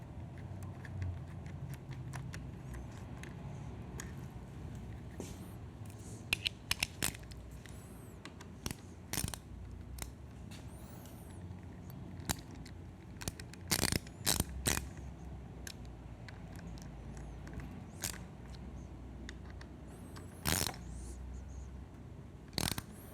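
A 4mm Allen hex bit tightens the bolts of CRG bar end mirrors on a Triumph Scrambler 1200 XE motorcycle handlebar, with quiet clicking, ratcheting metal ticks and scattered sharp taps close by.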